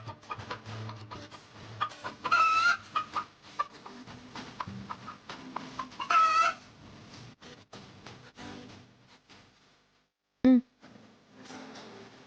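Hens and a rooster cluck in short, scattered bursts at moderate distance, with a couple of higher squawks and a brief sharp knock near the end.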